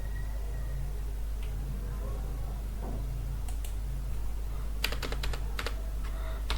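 Keys tap on a computer keyboard in quick irregular runs, with a few isolated clicks before them and a faint steady low hum underneath.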